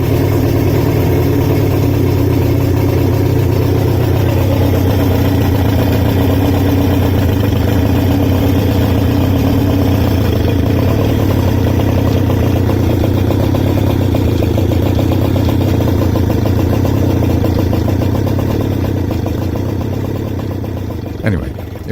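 A pre-mix two-stroke engine runs steadily aboard a Caracruiser boat, a continuous low, dense drone that holds even and loud for the whole stretch before easing off slightly and cutting out near the end.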